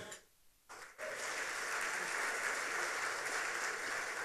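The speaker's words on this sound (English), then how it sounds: "Please join me to applaud for no other than our very own Ambassador Ashim Morton." A crowd at an expatriate awards ceremony in Ghana bursts into applause for an ambassador, a brief quiet lead-in then sudden sustained, dense clapping that continues evenly to the end.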